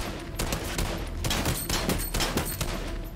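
Rapid bursts of gunfire in the video game Fortnite crackle in several sharp volleys, loud and close, separated by brief gaps, with no talking over them.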